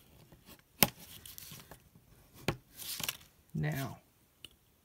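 Card paper being folded and creased into a playing card box: a few sharp, crisp crackles and rustles scattered across a quiet room, close to the microphone, with one fuller crinkling burst near the end.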